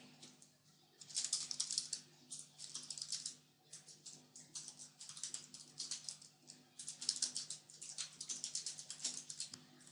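Typing text on a computer keyboard: quiet, close clusters of rapid key clicks in bursts separated by short pauses, over a faint steady hum.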